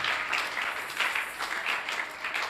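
A church congregation applauds and cheers in acclamation, a dense, steady wash of clapping that swells in waves over a few seconds, with no clear speech.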